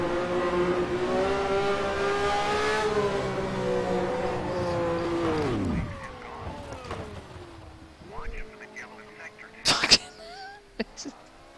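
A Matra race car's engine in the rFactor 2 racing game at Longford holds a steady high whine, then its pitch sags and dies away near the middle, followed by scattered clicks and a voice talking.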